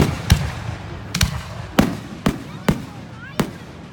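Fireworks at Dover Middle School in 2018: six sharp pops spaced about half a second apart, each with a short crackle, heard from a distance over faint crowd murmur.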